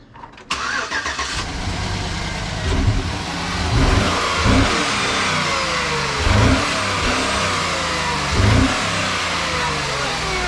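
A Chevy Tahoe engine with a 5.3 LS swap starts up, then revs repeatedly in rhythmic surges over a rumbling idle as it is driven, close and loud.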